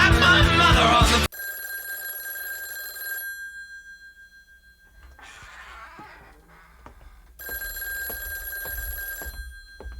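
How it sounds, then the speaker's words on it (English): A telephone bell rings in bursts within a music recording, sustained trilling rings separated by a quieter gap with other sounds. "Telephone is ringing."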